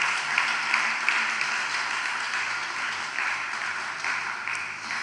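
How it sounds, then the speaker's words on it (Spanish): A church congregation applauds together, a steady wash of many hands clapping at moderate volume that carries on for several seconds without a break. "Denle de aplauso al Señor"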